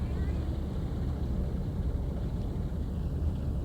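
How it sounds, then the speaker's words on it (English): A Class 45 diesel locomotive engine in Train Sim World 5 revs up on the main line of the Pennines route, a steady, dense low rumble droning continuously at close range. "Start revving it up now. There you go, let's rev that up."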